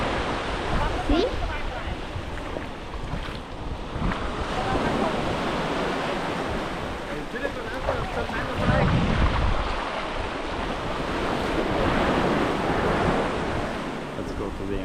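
Surf washing onto Haad Rin Nai beach on Ko Pha Ngan, Thailand, a steady broadband wash of waves with wind buffeting the microphone while walking along the shore.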